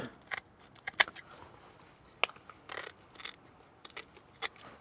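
A knife slicing into a cleaned, scaled fish along its back, heard as scattered short crisp cuts and scraping clicks at close range, with no voices.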